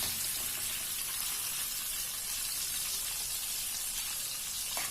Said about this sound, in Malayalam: എന്നിട്ട് അതൊന്ന് എണ്ണയിലൊന്ന് അതിൻ്റെ എല്ലാം പച്ചച്ചവ മാറുന്നവരെ ജസ്റ്റ് ഒന്ന് വഴറ്റിയെടുക്കാം